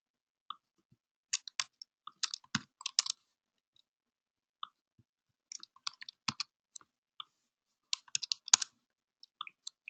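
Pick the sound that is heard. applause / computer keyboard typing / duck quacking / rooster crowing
computer keyboard typing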